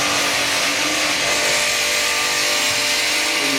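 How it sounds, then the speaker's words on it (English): A buffer wheel spins steadily while a knife edge is polished against it with paste, producing a continuous loud whirring hum with a broad hiss on top. Nobody speaks over it. "Once we put the edge on there, we then come to the buffer wheel."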